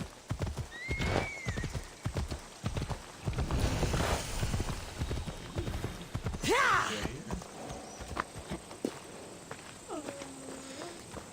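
Rapid hooves clopping on hard ground in a video game, close and rhythmic, with a horse whinnying midway and scattered game sound effects around it.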